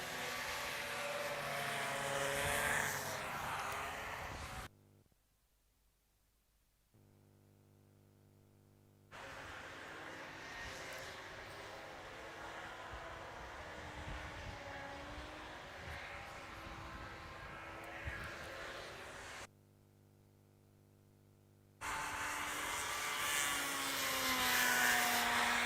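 A big four-stroke racing hovercraft, yellow, passes at a hovercraft race meeting at Whittlebury Hall, its loud broadband engine and fan roar sweeping by, with two brief dropouts in the sound.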